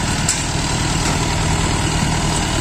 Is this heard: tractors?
yes